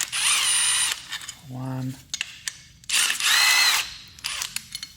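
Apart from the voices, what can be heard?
Milwaukee impact wrench removing 10mm bolts from engine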